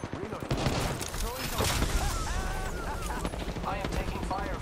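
Rapid gunfire in an Apex Legends-style battle royale game, bursts crackling under game voice lines and busy effects, dense and continuous throughout.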